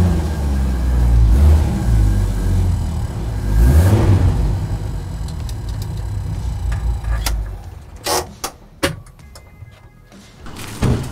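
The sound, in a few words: Mercedes G-Class 280 short with Cherokee engine accelerating off-road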